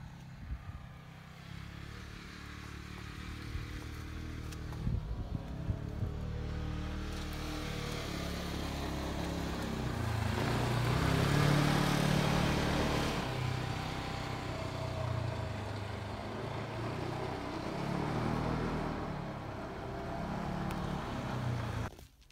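A jacked-up golf cart and a wide Polaris Ranger race a timed lap around a yard and house, their engines droning continuously and swelling to a loud roaring pass midway before settling back into a steady hum.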